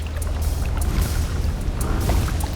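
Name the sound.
boat on water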